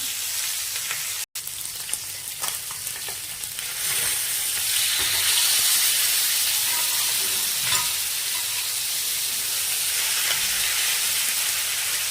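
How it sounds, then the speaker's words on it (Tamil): Fish frying in hot oil with curry leaves, a loud steady crackling sizzle that swells after a few seconds and stays dense and close with no voices. "இந்த மாதிரி கருவேப்பிலையை சேர்த்து வறுத்து பாருங்க"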